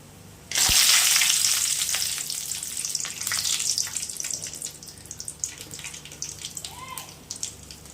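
Peanuts hit hot oil for lemon rice and burst into a loud, steady sizzle that then settles into crackling frying with faint stirring, heard alone without talk.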